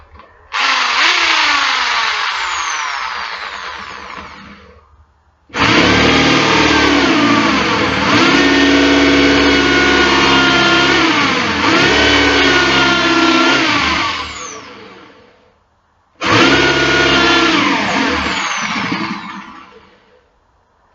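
A blunt bit on a power drill grinds into a model plane part in three loud, close bursts: about five seconds, a longer ten-second run, then a short final spin, with brief silences between.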